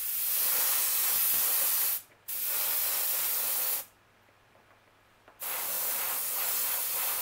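An airbrush sprays Greenstuff World colorshift metal paint in two steady, close hissing bursts of about two seconds each, separated by short silences.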